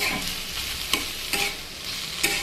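Green chillies frying in a hot pan with banana stem, a constant close sizzle broken by a few sharp scrapes of a spoon stirring, fairly loud, no talking.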